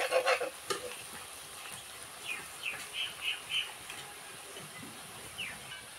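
Coriander, turmeric and Kashmiri red chilli powder frying in a pan while being stirred, with faint scraping strokes and a soft sizzle, fairly quiet throughout and with no talking.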